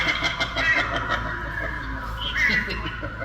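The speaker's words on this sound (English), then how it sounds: "I love the crow sounds behind him." Recorded crow caws play from an animatronic display inside a Halloween store, a few harsh calls repeating in the background.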